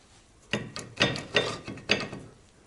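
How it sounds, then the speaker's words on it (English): A ratchet wrench tightens the rear brake caliper bolt on a Mazda MX-5 Miata (NA/NB), giving four or five close, sharp clicking bursts in an uneven rhythm with brief pauses between them. "Tighten this bolt to 27 foot-pounds or 37 Newton meters."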